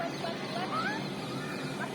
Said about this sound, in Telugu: అన్ని పక్షులు ఒకేసారి అరుస్తున్నాయి.